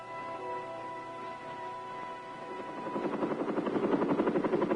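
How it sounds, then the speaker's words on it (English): A Huey helicopter in 1967 Vietnam, its turbine whine and tones steady at first, then the rotor blades' rhythmic thumping grows louder and heavier as it comes closer. "Let us look at the Huey helicopter"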